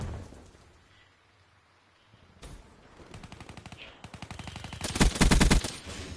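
Three-round burst weapon firing in Black Ops 3, short clipped bursts of rapid shots that start quiet and grow louder and closer, peaking in a heavy burst near the end, with no talk.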